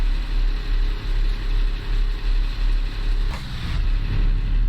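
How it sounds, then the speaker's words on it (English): A truck engine revving high, holding a steady, loud, droning hum with a pulsing low rumble and a brief higher whine near the end. No talking is heard. "the truck is definitely revving incredibly high"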